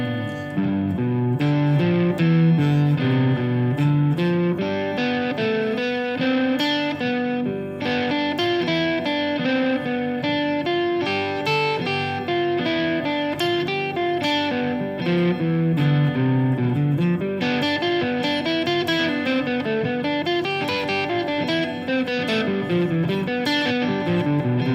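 A guitar runs arpeggios up and down through the first shape in G, a continuous flowing stream of plucked notes climbing and descending, steady and moderately loud with no voices.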